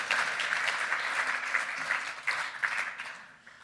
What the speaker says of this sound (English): Let's have one more round of applause for the highest rated dirt horse in the world, Laurel River.